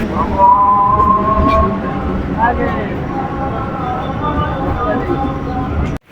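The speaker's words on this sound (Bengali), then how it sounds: "শিয়ালদাহ থেকে ষোলো কিলোমিটার পথ অতিক্রম করে আমাদের ট্রেনটা এই মুহূর্তে ঢুকছে সন্তোষপুর স্টেশন" Bengali local train on the Budge Budge line pulling into Santoshpur station, 16 km out of Sealdah, heard from on board: a steady rumble with a brief whistle-like tone over it, and a voice talking throughout.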